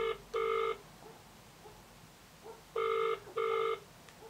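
Telephone ringback tone on an outgoing call, two pairs of short electronic rings separated by a long pause, faint and clear over quiet room noise.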